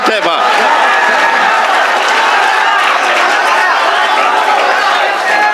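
A poetry gathering's audience breaks into loud, sustained applause and crowd noise at a shayari recital, dense and continuous throughout, with voices mixed into the clapping.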